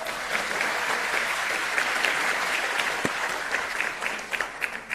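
Crowd at an Indonesian political party gathering applauding, loud sustained clapping filling the whole stretch with scattered louder individual claps toward the end.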